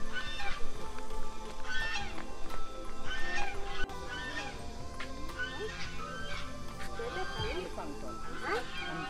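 Geese honk repeatedly at close range in a noisy outdoor setting, their calls coming in bursts over steady background noise, with people talking throughout.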